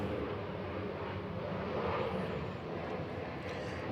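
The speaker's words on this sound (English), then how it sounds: "that's a big airplane right there. It's a cargo plane going by." A large cargo plane passes overhead, a steady broadband engine roar that stays loud and even throughout, with no talking.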